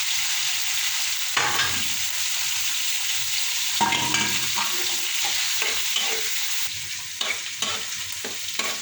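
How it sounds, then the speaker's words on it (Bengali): Onion and green chili frying and being stirred in a pan for a chicken bhuna curry, a steady close sizzle with intermittent scraping stir strokes, no talk. "পেঁয়াজ কাঁচামরিচ একটু নরম করে ভাজা হলো।"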